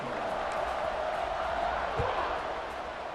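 A football stadium crowd murmurs and rumbles steadily at a distance before kickoff, giving a broad, even wash of noise with a faint thump near the middle and no clear cheer.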